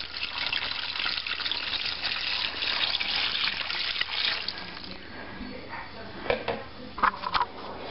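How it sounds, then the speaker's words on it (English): Water pours steadily into a cooking pot with a broad, rushing splash that fades to trickles and a few clanks near the end, with a voice talking over part of it. "I'm going to add 4 cups of water."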